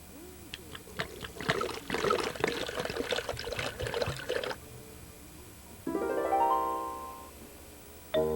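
Water pours and trickles as a sound effect in a children's read-along story, a few seconds of splashing and dribbling followed by a gurgling, rising tone, with no voices over it.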